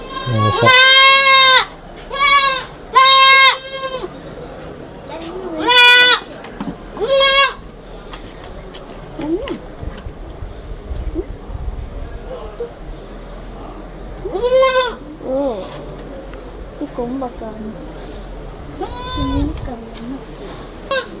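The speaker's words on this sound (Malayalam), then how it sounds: "ആട്ടുകുഞ്ഞുങ്ങളെല്ലാം അതിൻ്റെ അമ്മേനെ തേടി കരയുന്ന ഒരു" Jamunapari goat kids bleat loudly and repeatedly in bursts, crying for their mother in a pen after a tiger attack, with quieter voices talking in between.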